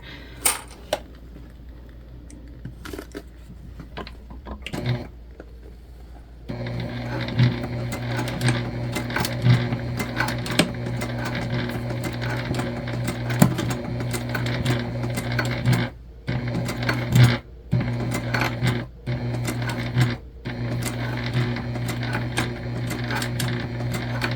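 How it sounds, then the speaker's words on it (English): A sewing machine stitches another row along the tab of an AURORA shoulder bag. After a few seconds of quiet, a steady close mechanical whir starts and runs on, broken by several brief pauses. "I think we'll do one more row of stitching on there."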